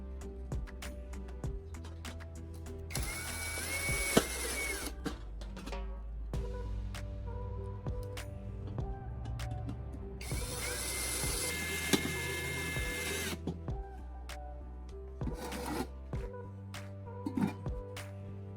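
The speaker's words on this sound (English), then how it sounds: "I'm carefully drilling holes to attach the handles" Electric drill boring holes in an inverted metal bowl for handle mounts, with two long, loud whining bursts of drilling separated by quieter handling clicks and taps.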